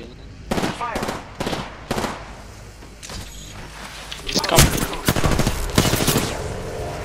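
Bursts of automatic gunfire in Apex Legends, several loud rapid volleys separated by short pauses, with clattering game effects between them.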